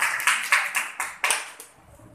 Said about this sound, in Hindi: एक बार जोरदार तालियों से स्वागत करें